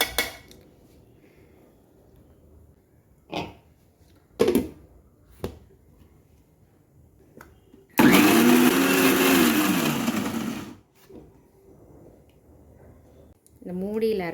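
A mixer grinder whirs loudly for about three seconds grinding pirandai thuvayal, the motor pitch sagging under the thick chutney, framed by brief knocks and clatter of the jar and lid before and after.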